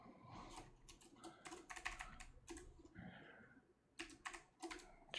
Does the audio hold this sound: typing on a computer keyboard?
yes